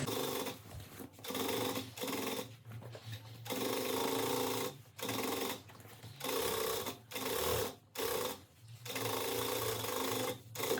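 A sewing machine runs in repeated bursts of steady, rapid stitching while sewing a safety seam on a bag, with short stops between runs and a close, buzzing motor.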